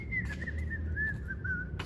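A person whistles a jazz tune while walking into a building, a clear, steady melodic line held close and alone with no talk.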